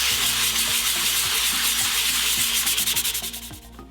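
Sandpaper rubbed by hand in circular motions over a hardened paste layer, a continuous loud, close scratchy rasp that turns into short rhythmic strokes near the end.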